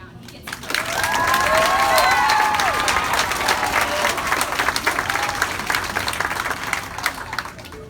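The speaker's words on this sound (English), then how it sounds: "So give Kevin a round" Audience applause fills a school orchestra's Halloween concert, a dense, sustained clapping that swells quickly and holds steady, with a few whistles and cheers rising above it.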